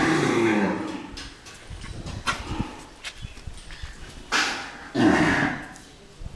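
Cows in a shed at an animal shelter moo in several drawn-out calls, fairly close, with a dog barking and footsteps nearby.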